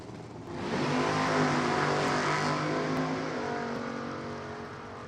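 A turbocharged drag racing car roars down the strip at an NHRA divisional race, a loud, sustained engine blast heard from a distance that swells in and then slowly fades.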